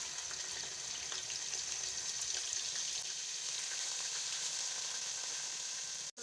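Four to five chopped onions frying in hot oil for chana biryani make a steady, close, even sizzle with faint stirring crackles and no voices, stopping abruptly at the end.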